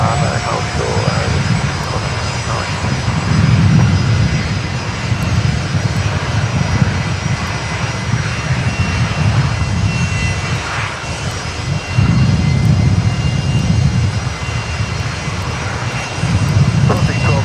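Boeing 737 MAX 8 jet rolling for takeoff at Brisbane Airport, a steady heavy engine roar with low rumble swelling in places across the whole span, heard from outside with people talking over it.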